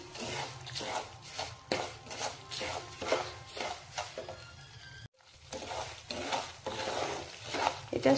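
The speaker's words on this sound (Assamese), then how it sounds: "মই কম জুইত চুজিখিনি ভাজি আছোঁ।" Semolina frying over low heat in ghee with cloves, cardamom and bay leaves while being stirred in a pan, giving repeated scraping strokes in a steady rhythm over a faint sizzle, close by with no talk.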